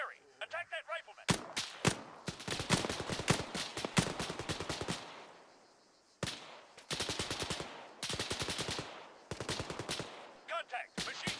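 Machine gun fire in a military video game battle, loud rapid bursts of automatic shots in several long strings separated by short pauses, close and dominant.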